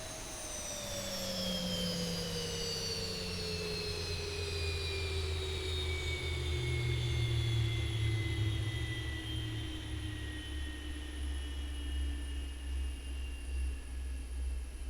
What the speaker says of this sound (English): one of my favorite parts of the flight is that engine shut off, especially in the Zibo